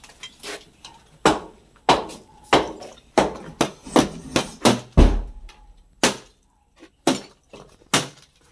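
A hammer strikes a metal pipe at a school, where a cobra is trapped inside, in loud, sharp, irregularly spaced clanging blows with short pauses between bursts.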